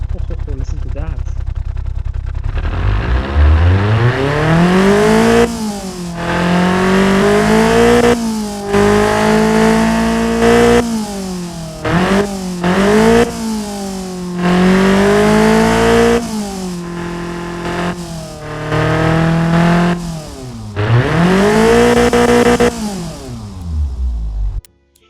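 A small replica Ford Zetec SE inline-four engine, built up as a tuner engine, revs hard and repeatedly toward 7,200 RPM, its pitch climbing and dropping in loud, close bursts with a person talking over it.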